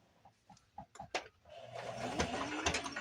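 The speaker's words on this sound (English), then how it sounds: "And we'll back stitch at the beginning again, just to give extra support to that initial startup of the seam." A sewing machine back-stitches the start of a potholder seam: a few short stop-start bursts of needle clatter, then a steady, close mechanical run at slow speed.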